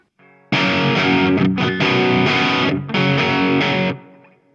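An electric guitar driven hard through a Marshall MG100HCFX amp rings out in loud, thick overdriven chords, struck a few times with short breaks before the sound decays and fades away.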